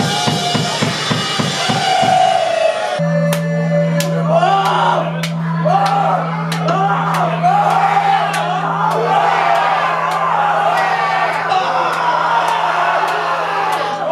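A crowd of over 200 kids at a punk show in Casablanca whoops and yells continuously, loud and close, with shouting voices layered over a steady low hum and sharp clattering hits.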